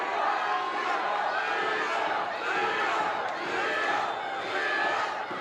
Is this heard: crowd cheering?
yes